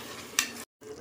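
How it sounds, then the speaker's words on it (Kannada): Biryani masala fries with yogurt in oil, a close, soft sizzle broken by one sharp stir or clink of a utensil before a brief cut to silence and the sizzle resumes. "ಸ್ವಲ್ಪ ಎಣ್ಣೆ ಬಿಡ್ತಿದೆ. ಆವಾಗ ಸ್ವಲ್ಪ ನೀವು ಮೊಸರು ಆ್ಯಡ್ ಮಾಡಿ, 1/4 ಕಪ್ಪಷ್ಟು ಮೊಸರು ಅಷ್ಟೇ ಹಾಕ್ಬಿಟ್ಟು 1-2 ನಿಮಿಷ ಹಾಗೆ ಫ್ರೈ ಮಾಡಿಸಿ"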